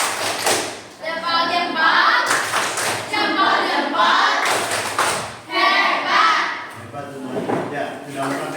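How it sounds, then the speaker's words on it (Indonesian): Applause in a grade 6 Indonesian classroom: bursts of children's hand clapping come and go in several waves, close by, with young voices talking and calling out over and between them. "Tepuk tangan."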